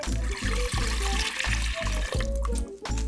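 Milk is poured into a pot for a galaktoboureko semolina base, a close, continuous glugging pour with rhythmic gurgles throughout.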